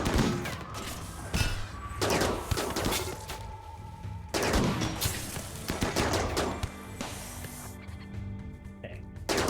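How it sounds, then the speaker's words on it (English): Rapid gunfire in a RimWorld battle: dense, overlapping bursts of shots and volleys crackling continuously at fairly steady loudness throughout. "Sonia, why don't you take some shots?"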